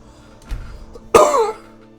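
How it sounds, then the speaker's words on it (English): A single person coughs twice at close range, a short muffled cough followed by a louder, rougher one with a throaty rasp. "Apologize for the coughing"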